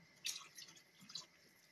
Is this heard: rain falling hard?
no